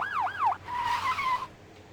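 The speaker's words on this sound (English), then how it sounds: "Are those sirens?" A police siren in Vampire: The Masquerade – Bloodlines gives two quick wailing sweeps, then a steadier, higher electronic tone under a faint hum. It is fairly close and plays alone for about a second and a half before cutting off.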